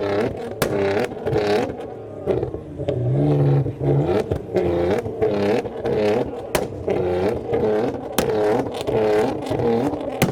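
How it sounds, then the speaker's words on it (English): Several cars, including a wide-body Nissan R35 GTR, rev and pull away one after another from a car meet, engines rising and fading with the occasional sharp pop and clatter. "So many cars are leaving."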